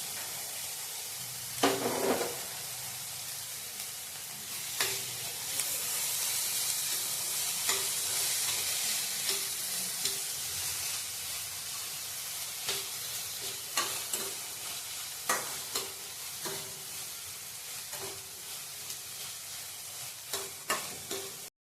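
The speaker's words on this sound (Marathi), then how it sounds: "टोमॅटो, शिमला मिरची हे चांगला भाजून घेऊया।" Tomato, capsicum and onion fry in butter for street-style paneer ghotala, a constant close sizzle broken by repeated loud scrapes and clacks of a spatula stirring in the pan. No one talks.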